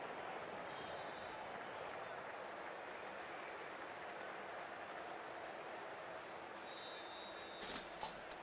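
A crowd applauds continuously in a cricket video game, a soft, even wash of clapping at a distance, with speech faintly present.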